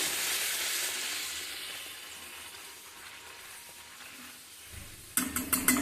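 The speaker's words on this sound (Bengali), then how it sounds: "তো লুচিগুলো এখন ভেজে নিচ্ছি।" Luchi frying in hot oil makes a steady close sizzle and hiss that fades slightly, then a few sharp clinks of a utensil against the pan at the end.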